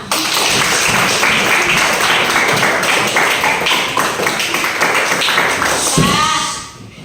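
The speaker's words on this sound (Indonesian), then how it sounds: "Tepuk tangan kita semua." Classroom applause at the close of an elementary school social studies lesson, dense steady clapping from a group filling the whole stretch before fading out at the end.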